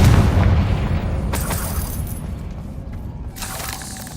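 A Confringo fire spell explosion in Hogwarts Legacy, a video game, opens with a loud, deep boom and a shattering burst, then decays into a rumbling tail with a few faint later crackles.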